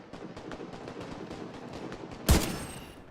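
Rapid distant gunfire rattles steadily in The Division 2, then one loud, sharp sniper rifle shot cracks close by with a short trailing echo.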